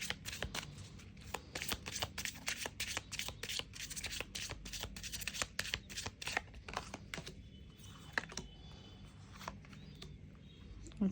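Tarot cards are shuffled up close in a rapid run of crisp riffling slaps that settles into softer handling rustles.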